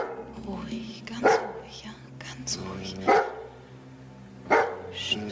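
A dog barks in a few sharp bursts at steady intervals, close by, with people talking over and around it in a German drama scene.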